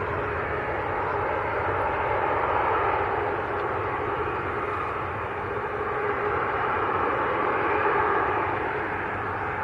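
A green-liveried Aer Lingus airliner at Manchester Airport produces a steady, broad jet rumble at moderate distance, swelling slightly and fading in gentle waves without any voices over it.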